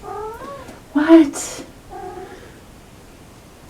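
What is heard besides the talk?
cat meowing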